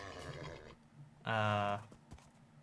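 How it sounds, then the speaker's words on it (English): A horse in the Minecraft video game gives a single loud, bright whinny of about half a second, with someone talking faintly before and after it. "This is not a promising horse."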